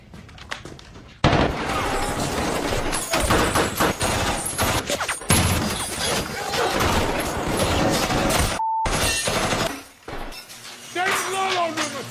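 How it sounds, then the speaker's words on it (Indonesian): Gunfire from the 2026 film The Rip rips in loud, dense bursts and crashes that run almost continuously, with a voice heard over parts of the barrage. "Den dan tim pun ditembaki oleh orang tak dikenal yang membuat Lolo sempat terkena satu tembakan"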